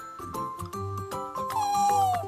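A pet cat named Quincy gives a drawn-out meow that slides downward in pitch, set against a steady tonal background of music and light chiming.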